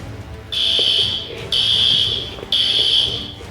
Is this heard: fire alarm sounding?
yes